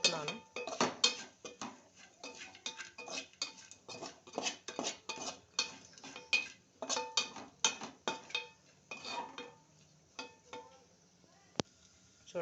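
A spatula scrapes and clatters against a metal pan as bitter gourd (kakarakaya) fry is stirred, with quick rhythmic scraping strokes that continue steadily close up.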